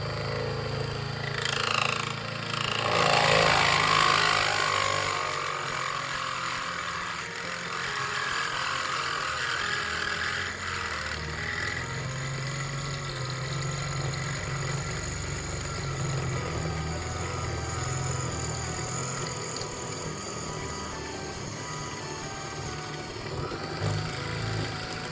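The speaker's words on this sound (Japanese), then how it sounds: "手で押さえて穴を開けましたが、7ミリのドリルのトルクを抑えるのはギリでした。" A hand-held power drill with a 7 mm bit bores into an aluminium frame, whirring and grinding continuously, its motor straining under load with a harsh, buzzing rattle that persists at close range.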